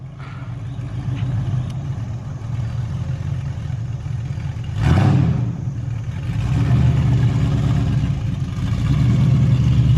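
A custom 2004 Ford Crown Victoria on 30-inch wheels pulls away, its engine note swelling with a sharp whoosh midway and then a steady, rising drone as it drives off.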